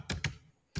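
Three crisp computer keyboard keystrokes, two close together and one after a short pause, quiet and close with no talk.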